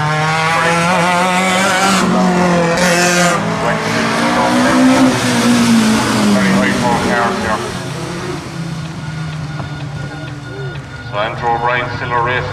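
Race cars on a circuit in Class 4, 5 and 6 racing, heading onto the back straight, engines droning loudly and rising in pitch as they pass, with a commentator talking over them.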